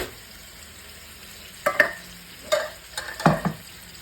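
A spoon stirs pastitsio meat sauce with stock in a pan, giving a few soft scraping and sloshing strokes with a light sizzle underneath, close and moderately quiet with no talk.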